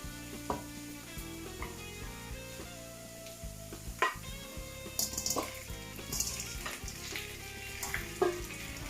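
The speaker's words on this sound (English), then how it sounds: "I do not want my garlics to burn, so I'm gonna stir them a bit" Minced garlic sizzles and fries in a hot pan while being stirred, a steady crackle with scraping stirs and a few sharp clinks, under soft background music.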